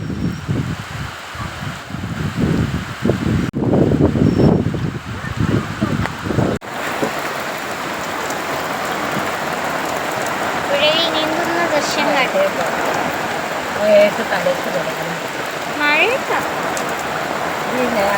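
Rain falls steadily outdoors in Kerala near a river, a continuous patter on surfaces, with wind buffeting the microphone and people talking over it in the opening seconds.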